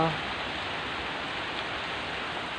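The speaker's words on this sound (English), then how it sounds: "rain is coming down" Steady, dense rain pours down during a night thunderstorm, a continuous hiss with no breaks and no thunder audible.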